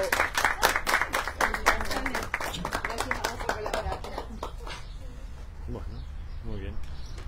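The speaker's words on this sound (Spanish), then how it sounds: "Un aplauso para ella." Sharp, close hand claps burst out at a bingo prize-giving, dense for a few seconds and then thinning out as a voice starts speaking over the fading applause.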